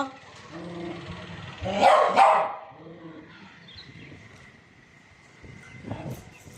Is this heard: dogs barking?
yes